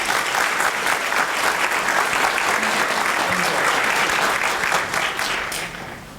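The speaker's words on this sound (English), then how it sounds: "I do want to just give a round of applause for those guys as well." Loud, sustained applause from a school band and strings concert audience, many hands clapping in a dense, even wash that fades slightly at the end.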